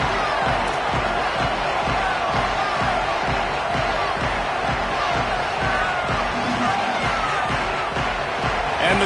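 A home stadium crowd roars steadily at a college-style football kickoff for the Tigers in a video game, a dense wall of cheering that holds loud and unbroken from start to finish.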